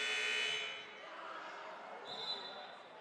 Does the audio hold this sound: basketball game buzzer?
yes